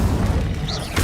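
Incendio fire spell cast in Hogwarts Legacy, a short loud whooshing burst of flame with a low boom, heard alone.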